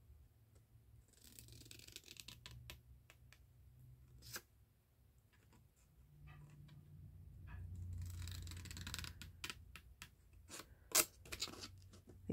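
Small scissors snip paper in a series of short, crisp cuts spaced irregularly across the clip, close and fairly quiet, with soft handling rustle between snips and no talking.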